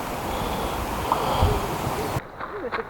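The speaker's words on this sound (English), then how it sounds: "The High Force Waterfall." High Force Waterfall roars with a continuous broadband rush of falling water, steady and loud, before cutting off abruptly near the end.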